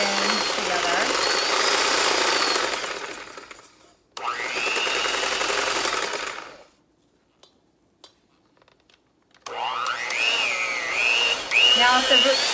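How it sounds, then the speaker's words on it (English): An electric hand mixer whirs loudly as it beats cream cheese with powdered sugar and vanilla extract for a no-bake Oreo cheesecake, running in bursts with a near-silent pause, then starting again with a wavering whine. "go ahead and beat this up until it's all kind of blended in together"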